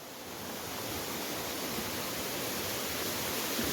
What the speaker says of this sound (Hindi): देख सकते हो ये छोटा सा झरना आ रहा है ऊपर से